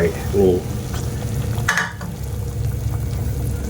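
Ingredients for Isan-style fish larb drop into a pot of boiling water with a splash and hiss, followed by steady bubbling and sizzling.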